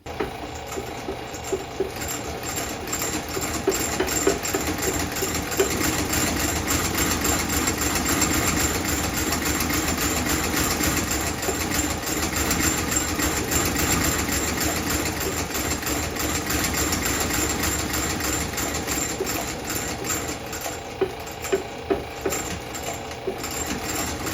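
A stitching machine sews a sole onto Red Wing Iron Ranger leather boots, its dense mechanical chatter running loud and continuous at a steady pace with faint intermittent clicks.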